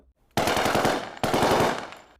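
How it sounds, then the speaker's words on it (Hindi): Sound effect of rapid automatic gunfire, two loud close bursts of machine-gun shots with a sharp restart midway, standing alone with no talk over it. "30 जनवरी 1948 को नथुराम गोडसे ने गांधी को पॉइंट ब्लैंक गोलियां मारकर असैसिनेट कर दिया।"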